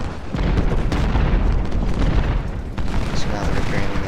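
Artillery cannons firing in the Ultimate General: Civil War battle game, heavy booms and rumbling blasts rolling one into another under a dense, continuous din.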